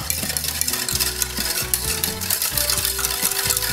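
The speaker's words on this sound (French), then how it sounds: "On mélange bien." Sugar and water being stirred in a pot for banana sorbet, a close, rhythmic scraping of a utensil against the pot with repeated knocks, steady and unaccompanied by talk.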